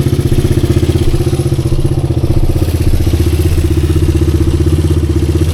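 A 1986 Honda XR200R dirt bike engine runs steadily close by, a loud, even single-cylinder chug with rapid regular pulses and no pauses throughout.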